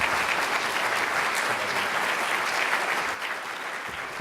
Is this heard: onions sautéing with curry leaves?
no